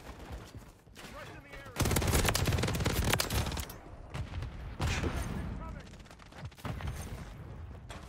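Rapid bursts of automatic gunfire from a weapon in Modern Warfare 3, loud and sustained in several long volleys with short pauses, with game effects in the mix and a voice talking between the bursts.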